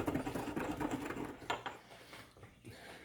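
Pepper grinder cranking coarse peppercorns, giving a rapid ratcheting, gritty crunch up close that runs steadily, then thins into a few scattered clicks.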